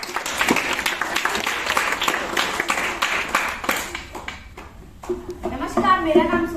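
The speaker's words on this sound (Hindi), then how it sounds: "तालियां।" Audience applause at a storytelling event, a dense burst of clapping that fades out, followed by a voice speaking.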